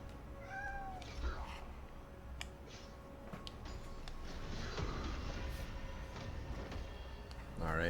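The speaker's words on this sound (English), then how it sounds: "my cat is meowing all the time" A house cat meows once or twice near the start, close and clear, then fades under steady background noise from a League of Legends esports broadcast.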